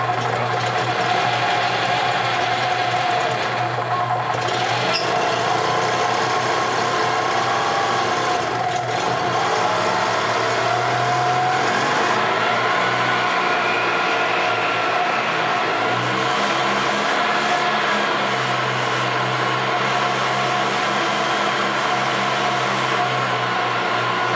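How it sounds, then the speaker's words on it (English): Gas-powered 2002 EZGO TXT golf cart engine running steadily and loud throughout, a continuous buzzing drone with slight shifts in pitch as it idles and revs, no voices. "So now when we start it, it should crank."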